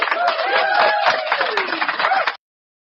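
Clapping sound effect from a soundboard bursts out as a dense patter of applause for about two seconds, with a faint laugh-like tone over it, then cuts off abruptly into silence.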